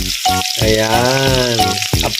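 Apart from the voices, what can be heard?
potatoes frying in a pan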